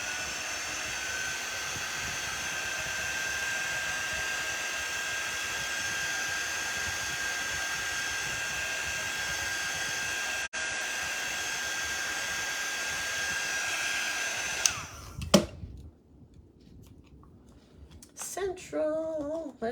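A dryer blows a steady, loud whoosh over a painted wooden sign for about fifteen seconds, then cuts off, leaving quiet room sounds and a few brief knocks.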